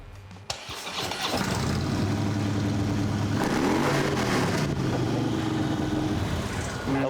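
Custom-built motorcycle engine cranks briefly, then fires up and runs loud and steady at close range, with a rising rev in the middle before settling back to a rumbling idle.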